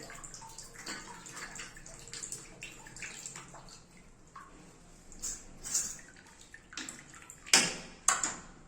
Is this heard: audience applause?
no